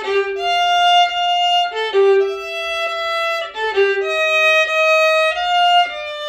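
A violin plays a short passage alone, with clear sustained bowed notes, some slurred downward slides and repeated rhythmic figures, moderately loud and close with no talking.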